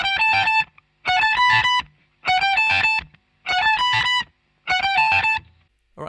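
Two distorted electric guitars play the same choppy riff in unison for a song, in five loud bursts separated by brief silences, with chorus-like effects and no talking.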